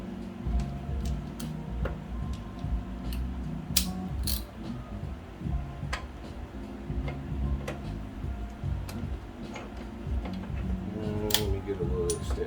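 Ratchet clicks as a 10mm socket snugs down the throttle body bolts on a 2015 Jeep Compass 2.4L, a steady run of quick ticks with a few sharper metallic taps over a low hum.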